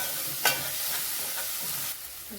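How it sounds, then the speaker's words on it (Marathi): Mashed eggplant with turmeric and coriander is sautéed in a pan, giving a steady frying hiss with an occasional spatula scrape and a sharp tap near the start. "हळद घालायची थोडी परतून घेऊया आणि कोथिंबीर आहे ना ती पण त्यातली पण थोडी कोथिंबीर घालूया परतून घेऊया"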